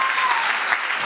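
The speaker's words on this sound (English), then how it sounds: "somebody give the Lord a hand clap of praise" A Pentecostal church congregation at a Sunday morning service gives a short, dense burst of hand clapping in praise, loud and continuous.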